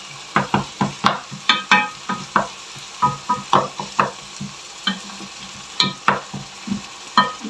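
Minced meat for Bolognese fries in a pan under a soft sizzle, while a utensil scrapes and stirs it in quick, rhythmic strokes, loud and close.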